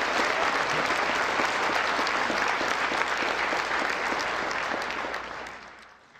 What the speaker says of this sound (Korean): 우리 대통령님께 내년에도 계속 오셔달라고 다시 한번 뜨거운 박수를 부탁드립니다.